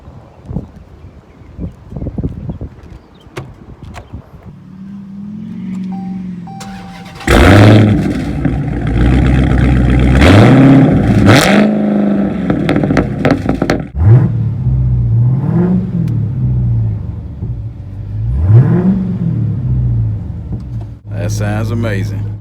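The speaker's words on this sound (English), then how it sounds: "Now let's start it up and see what it sounds like." A Dodge Hellcat's engine cranks and fires up, then revs loudly in several sharp bursts that rise and fall, close and dominant, with a few brief voices between revs.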